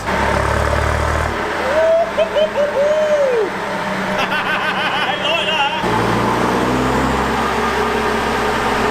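A Mitsubishi L200 diesel truck with a manual injection pump conversion runs steadily and loudly on a dyno, its deep rumble rising and settling, with brief voices and some chatter over the mechanical noise.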